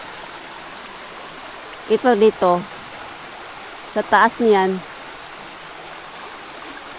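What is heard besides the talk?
strong flowing stream water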